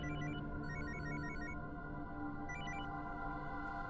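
A phone rings on an outgoing call, with repeated bursts of an electronic ringtone pattern over a low steady hum, fairly faint, with a pause between the two ring bursts.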